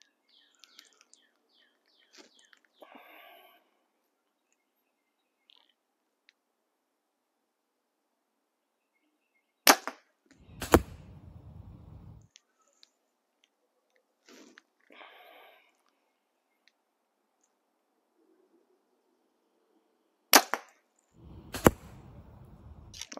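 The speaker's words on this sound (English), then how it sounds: "I want to shoot these last three, then I want to back up and see how it shoots from a little further out" Archery practice with a bow: two releases about ten seconds apart, each a sharp snap quickly followed by a thud and a low rumbling tail, with faint chirps and small rustles in the quiet between shots.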